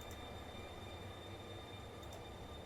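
Ghost train in the video game The Darkside Detective, a steady faint rumble of rolling rail noise with a thin whine, continuous and unbroken, no talking.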